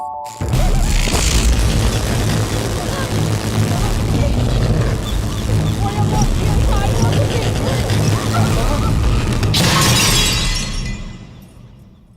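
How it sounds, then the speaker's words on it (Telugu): Lights burst with a loud bang in a comedy film scene, a sudden shattering blast followed by sustained crackling, breaking noise and a second burst near the end, with voices underneath. "నిజానికి జాతకం వల్ల లైట్లు పేలకూడదు"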